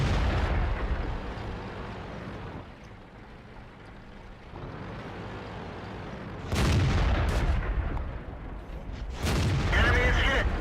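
Indien-Panzer tank cannon fire in a tank video game, heavy booming shots that burst out loud over a rumbling engine-and-battle bed, with talk running over it.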